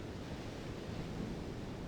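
Continuous rushing water from Myst 3's water effects, a broad steady surf-like hiss that stays even throughout, no talking over it.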